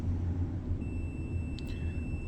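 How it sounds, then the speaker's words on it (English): A multimeter continuity tester emits a single steady high beep that starts partway through and holds to the end, faint over a low hum, with no talking. "it makes a beep if it's connected"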